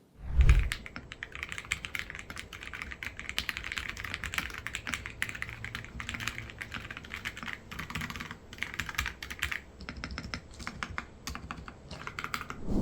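Continuous rapid clacking of a Dark Project Onionite mechanical keyboard being typed on, steady and close, with a louder thump at the start and no voices.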